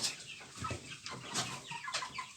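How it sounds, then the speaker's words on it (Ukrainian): Chickens and roosters cluck and murmur continuously close by after rain, a busy flock with overlapping calls. "І курочок, і півників нехай виходять."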